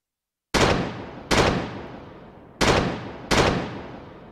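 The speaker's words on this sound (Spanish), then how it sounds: "Las 50 piezas de artillería dispararon en un solo estruendo." Artillery cannons fire four heavy booming shots in an uneven rhythm, each blast loud and close with a long rumbling decay. The booms follow a silent start, and no one talks.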